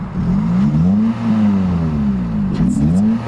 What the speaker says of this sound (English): So Gabriella, go ahead and play a little bit with the exhaust.